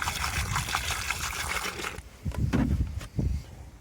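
Pool antifreeze pours into swimming pool plumbing during winter closing, a steady rushing gush for about two seconds, then broken glugging splashes as the flow tapers off.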